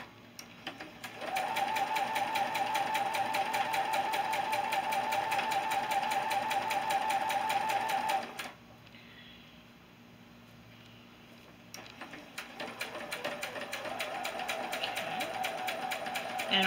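A sewing machine stitches four quilt blocks together with a quarter-inch seam, a fast, even mechanical whir heard close up, pausing for a few seconds before running again.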